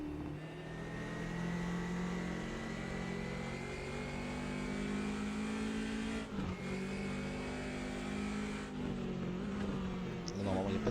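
BMW race cars lapping a circuit in the Automobilista 2 racing game, with a steady loud engine drone that stays constant under commentary and dips briefly near the end.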